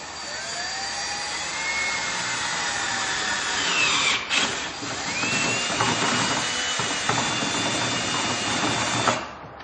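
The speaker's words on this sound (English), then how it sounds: "take a 1/2-inch drill bit and drill a hole in the control panel" A power drill with a 1/2-inch bit whines loudly and steadily, its pitch shifting as the bit bites through a golf cart's control panel, with a brief dip midway before running on and stopping.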